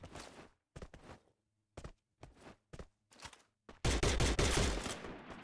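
Bursts of video game gunfire in a competitive tournament match, several short separated volleys followed by a loud sustained barrage at the end, with no talk.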